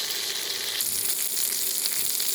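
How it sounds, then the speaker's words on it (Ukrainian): Steady, close sizzling of cevapcici frying in hot oil in a 26 cm pan, a constant crackling hiss without speech. "навіть і так обсмажую боковички"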